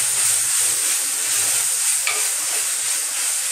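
Steady, loud sizzling of coriander leaves frying in a hot pan, a continuous crackling hiss with no voices.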